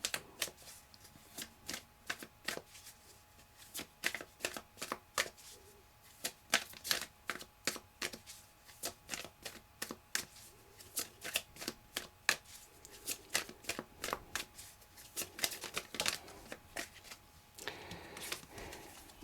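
Tarot cards are shuffled and drawn in a quiet room, with a close series of crisp riffling flicks and soft slaps in irregular bursts and no talking.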